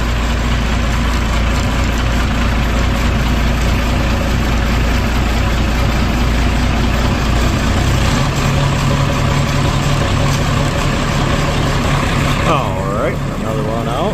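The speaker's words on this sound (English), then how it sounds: "Boy, that's a shame how good that tractor runs." An old antique tractor engine runs steadily at idle, a continuous low rumble with even harmonic bands throughout, fairly loud and close, with faint background talk near the end.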